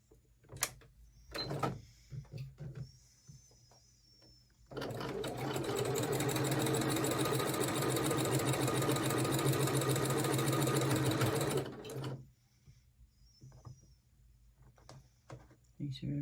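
A sewing machine stitches quilt block pieces for a snail trail sampler block in one steady, loud run lasting several seconds, with quiet handling noises and some speech before and after.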